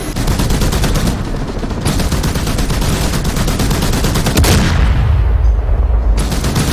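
Dense, rapid bursts of gunfire crackle continuously, loud and close, with heavy overlapping shots and a deeper rumble near the end, in the DCS World flight simulator during an Mi-17 helicopter attack on mountain bases.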